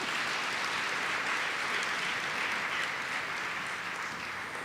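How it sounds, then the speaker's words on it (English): Steady audience applause at a university's official opening ceremony, a broad wash of many hands clapping evenly and continuously at a moderate distance, with no talk over it. "Let's put hands together."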